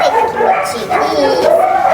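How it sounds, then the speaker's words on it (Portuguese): A female dog barks and whimpers, eager to go out for a walk, in short yips and whines mixed closely with a person talking to her. "Tem aqui uma cachorra que tá querendo passear."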